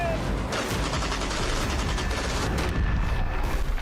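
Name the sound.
army gunfire during military exercise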